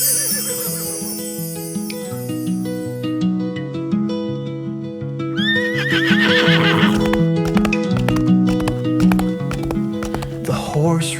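A horse whinnies over steady clip-clopping hooves, with a second louder neigh midway, all set against continuous music.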